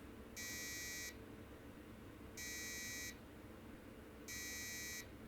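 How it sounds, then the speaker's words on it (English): Three evenly spaced electronic beeps from a 486 VLB motherboard's BIOS during a repair and memory test, each about three-quarters of a second long, clear and steady over a low background hum. "Oh, we've got beeps."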